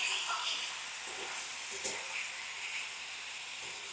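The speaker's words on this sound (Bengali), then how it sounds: "এবার আমি এটাকে ভালো করে ভেজে নেব।" Potato curry frying in a pan at home, a soft steady sizzle and hiss that carries on quietly throughout with no break.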